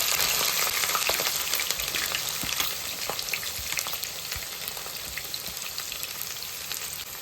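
Onions and green chilies with fenugreek seeds frying in hot oil for Telugu-style crab curry, a steady loud sizzle with occasional stirring scrapes throughout.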